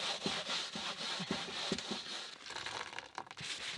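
Steady rubbing and wiping across a dirty van surface being deep-cleaned, a continuous scrubbing swish with soft rhythmic strokes, close and moderately quiet, no talking.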